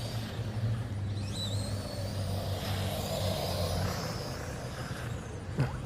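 A small HBX 1:16 off-road 4x4 RC truck drives outdoors with a steady whining electric motor hum, rising and falling in pitch as it speeds and brakes, over constant background noise.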